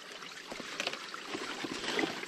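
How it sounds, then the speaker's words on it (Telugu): Water trickles down a rock into a channel on a hillside near a tribal hamlet, a faint, steady, splashy flow with small droplets and no talking. "ఇది ఈ వాటర్ బండ మీద నుంచి కొంచెం కారుతా ఉంది కదా"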